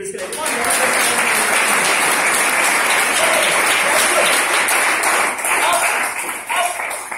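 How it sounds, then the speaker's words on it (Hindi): A crowd at a motivational seminar bursts into sustained applause, broad and loud clapping from many people lasting several seconds, with a voice briefly audible at the start. "इस चीज के लिए तालियां होनी चाहिए।"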